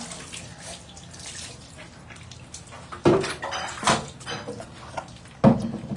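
Water runs steadily from a tap during a dog's bath, with a few louder splashes and gushes breaking through the continuous flow, heard close by.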